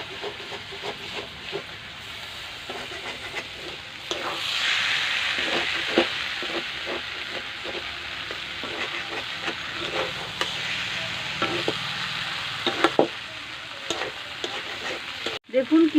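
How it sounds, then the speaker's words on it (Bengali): Bitter gourd and lote fish frying in hot oil, a steady close sizzle and hiss running throughout with scattered stirring scrapes and clinks, no talk. "যে আমি তেল দিয়ে দিলাম, দিয়ে এটাকে লাল লাল করে ভেজে নিতে হবে"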